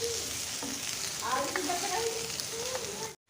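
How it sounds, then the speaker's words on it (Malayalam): Onion sautéing in a hot pan, a loud continuous sizzle with stirring scrapes, some faint voice-like tones underneath, cutting off abruptly at the end. "ഇനി നമുക്കിതിലേക്ക് സവാള ഇട്ട് കൊടുക്കാം. വഴറ്റി കൊടുക്കാം."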